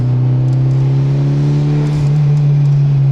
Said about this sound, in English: Might be able to hit a blow-off valve in the background there.